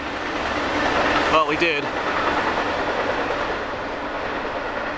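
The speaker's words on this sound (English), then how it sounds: "we got a train on the tracks out there" A train rolls along railroad tracks in the distance outdoors, a steady low rumble with a brief clatter of wheels, while a person speaks briefly over it.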